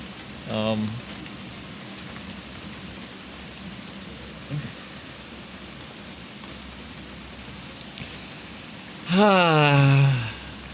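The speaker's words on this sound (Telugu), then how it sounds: "వర్షం పడుతుంది" A constant hiss of rain falls throughout, with two brief vocal sounds near the start and end.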